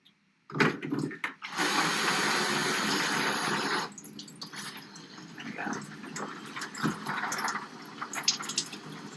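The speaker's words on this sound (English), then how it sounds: "So we want to use the light power, right? Just really gentle water." A steady hiss of gentle, low-pressure water spray rinsing a screen-printing screen runs for a few seconds, then cuts to quieter, uneven splashing and dripping with faint background noise.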